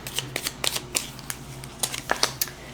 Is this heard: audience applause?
no